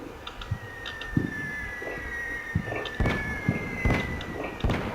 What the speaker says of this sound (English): enemy artillery is already coming down on my positions